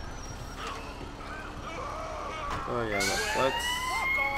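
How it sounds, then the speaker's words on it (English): Fire engine siren in the GTA 4 video game, wailing and rising behind engine rumble and game noise while someone talks briefly over it. "I always forget to turn off the siren."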